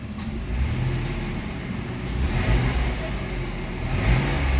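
A Mitsubishi Mirage engine revs steadily and close by, its low droning hum climbing gradually over a few seconds as the RPM rises.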